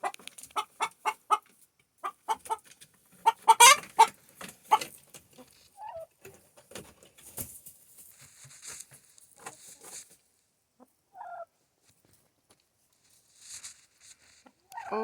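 A hen named Opal clucks in a rapid buck-buck-buck series after trying to lay an egg, loud bursts close by at first, then scattered softer clucks and light rustling, with a voice speaking at times.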